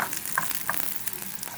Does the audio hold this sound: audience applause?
no